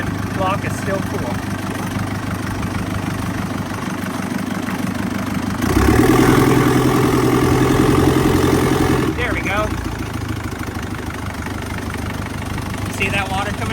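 A 400hp turbo diesel engine on a Thai longtail riverboat idles steadily, a loud rumbling drone that swells briefly in the middle, with people talking over it.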